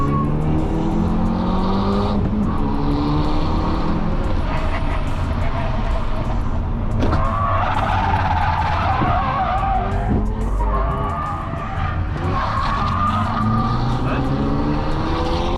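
Race cars roar loudly and continuously, with engines revving and tires screeching as cars slide out, a dense mechanical din throughout.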